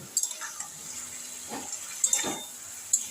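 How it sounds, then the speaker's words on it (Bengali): A small amount of water is poured into a pan of prawns and ground spice paste for a jackfruit-prawn curry, giving a few brief, soft splashes and trickles against a quiet kitchen background. "এবার আমি এর মধ্যে অল্প করে জল দেব"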